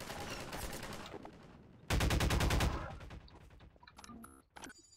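Rapid automatic gunfire in Half-Life 2 crackles through the scene, a dense burst of shots peaking loudly midway, followed by scattered metallic impacts and smaller pops.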